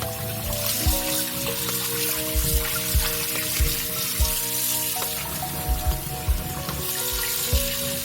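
Fish being washed under running water in a kitchen sink, with a steady splashing stream and intermittent thumps and clatters as the pieces are handled, close by with no talking.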